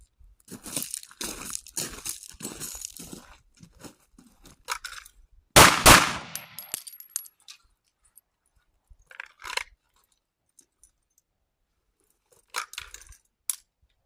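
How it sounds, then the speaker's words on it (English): A pistol fires a single sharp, loud shot during drawing-and-firing practice at a range, set among quieter handling clicks and knocks. "I'm going to shoot out the rest of this, just do some drawing and firing here for a minute."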